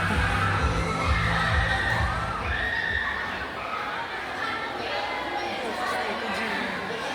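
An audience at a village fiesta pageant screams and cheers in a dense, continuous roar of shrieks, with voices talking close by throughout.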